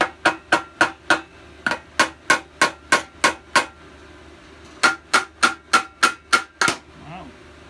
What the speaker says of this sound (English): Let's get the rubber hammer again. Give it a few taps.